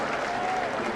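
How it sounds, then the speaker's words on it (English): A baseball stadium crowd in Toronto gives a loud, sustained ovation for a home run deep into the upper deck, a dense wash of clapping and cheering that fills the whole moment. "he receives a huge ovation from this crowd in Toronto"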